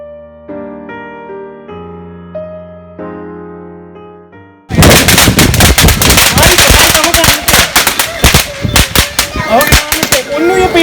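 Gentle tonal music plays for a few seconds, then a loud, continuous barrage of crackling Diwali firecracker bursts takes over, dense and sharp throughout.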